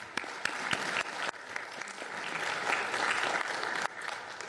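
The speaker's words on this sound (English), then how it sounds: "So a round of applause." Sustained applause from an audience at a city commission meeting, a dense steady patter of clapping that swells slightly midway and holds at moderate loudness throughout.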